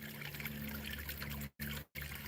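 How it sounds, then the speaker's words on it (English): Water trickles and splashes down a small garden waterfall built from stacked rocks, a steady close wash of pouring sound broken by two brief dropouts. "We got kind of like a little waterfall right here."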